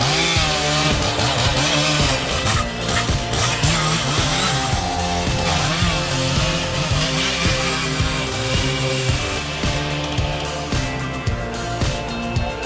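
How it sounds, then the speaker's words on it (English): A StyleMesh 660 chainsaw runs at full throttle through a massive tree trunk, its loud, steady engine snarl rising and dipping with the load in a continuous rough drone. "The StyleMesh 660 is operating at full capacity to cut through the massive trunk of this tree."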